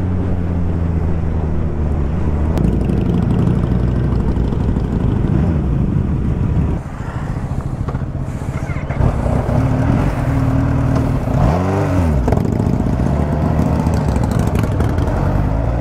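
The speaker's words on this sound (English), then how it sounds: "And that's Prashant bike on Harley 48." A Harley-Davidson 48 engine rumbles loud and steady at idle and rises in a few revs while the bike slows for a turn during a group superbike ride. No one speaks.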